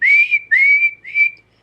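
A voice whistles to imitate a shrill eagle-bone whistle, three short piercing rising blasts, loud and close, with silence between them.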